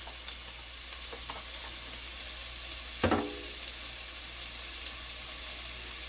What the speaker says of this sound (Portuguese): E agora eu vou fritar a cebola.